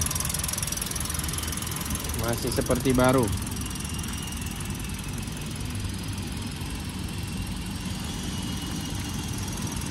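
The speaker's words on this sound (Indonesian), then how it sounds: "ini kondisi mesin hidup ya" A 2022 Daihatsu Sigra R with manual gearbox idling with the engine running, a steady, even drone heard close throughout, briefly under a short spoken remark near the start.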